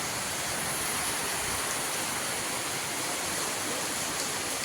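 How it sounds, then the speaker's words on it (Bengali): Heavy rain pours down in a dense, continuous hiss that stays steady and fairly loud throughout, with no voices over it. "এই যে দেখেন অনেক বৃষ্টি আসতেছে বৃষ্টির সাউন্ডটা কিন্তু খুব ভাল লাগতেছে"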